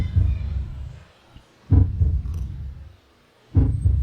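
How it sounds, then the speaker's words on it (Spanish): Heartbeat sounds from the intro of a song: deep, muffled low thumps in two slow pulses, each a cluster of soft beats separated by quiet gaps, with no voices. "Unos latidos de corazón"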